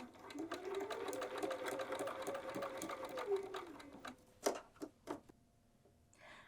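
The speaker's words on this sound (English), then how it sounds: "And sew across." A sewing machine runs steadily for a few seconds, stitching across a strip of fabric for double fold bias binding at close range, then stops, leaving a few clicks and handling taps.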